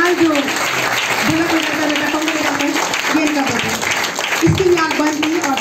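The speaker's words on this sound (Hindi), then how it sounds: "जोरदार ताली" A church congregation breaks into loud, sustained applause, a dense wash of clapping that continues throughout while a voice speaks over it.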